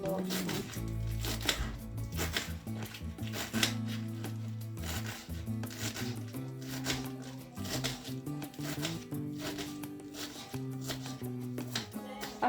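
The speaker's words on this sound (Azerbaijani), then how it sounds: "Artıq göyərtilərimiz hazırdır, doğradıq." A knife chops through fresh herbs in quick, even strokes on a board, a steady run of close, crisp cuts lasting throughout with faint music underneath.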